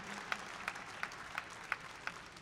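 A round of applause for Team 2415 at a robotics competition's opening ceremony: faint, evenly spaced claps about three per second, distant and quiet against a soft background hum.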